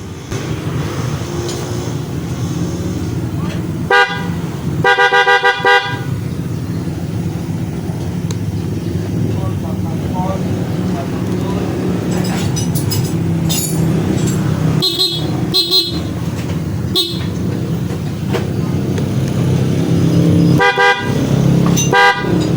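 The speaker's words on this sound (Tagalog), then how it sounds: "So ito yung ating loud horn." A loud PIAA dual contact motorcycle horn on a Honda ADV 160 sounds in several short blasts, some in quick pairs, spread out over a steady idling engine.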